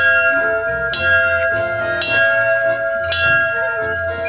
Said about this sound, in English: Can we ring the bell?